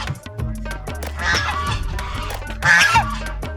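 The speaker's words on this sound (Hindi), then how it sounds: "देखो यहाँ बत्तख भी हैं, कैसे हल्ला काट रही हो।" A flock of ducks or geese at a lakeside viewpoint honk and quack loudly and close by in overlapping bursts, swelling into two noisy peaks.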